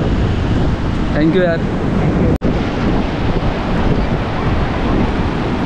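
Steady roar of monsoon surf and strong wind buffeting the microphone at Colva beach in Goa, constant and loud throughout, with a brief voice speaking over it and a sharp dropout midway.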